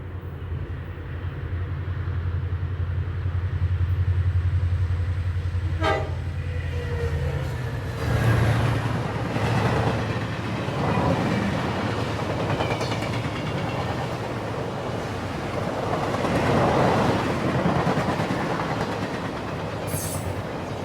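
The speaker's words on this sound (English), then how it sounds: "Amtrak's number 30 heads next through Pear Orchard Curve" Amtrak number 30 passenger train rolling through Pear Orchard Curve on CSX's Magnolia Cutoff in 1992, a loud continuous rumble of wheels with clickety-clack over rail joints and a faint squeal, heard alone.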